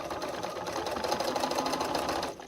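A sewing machine runs steadily while stitching a seam on a double wedding ring quilt, giving a continuous close whir for about two seconds before easing off at the end.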